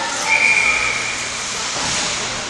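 A referee's whistle at an NHL playoff hockey game between the Lightning and Avalanche gives one sharp, steady blast of about half a second over a continuous roar of arena crowd noise.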